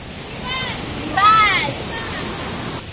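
A waterfall on a trek up Rangana fort gives a steady rushing wash heard from a distance, while a voice talks over it for most of the clip.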